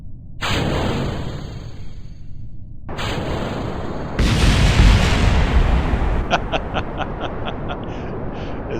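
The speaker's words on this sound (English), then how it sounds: "There's something satisfying about those explosions." Rocket explosions in Kerbal Space Program, several loud booming blasts with rumbling debris, a big burst midway followed by crackling pops and sharp repeated bangs.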